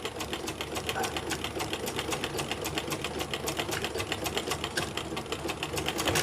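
Sewing machine stitching a kameez neckline over paper buckram, a fast, steady chatter of needle strokes running continuously at moderate volume, close and unbroken.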